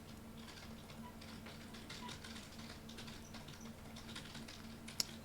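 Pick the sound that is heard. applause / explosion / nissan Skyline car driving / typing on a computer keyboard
typing on a computer keyboard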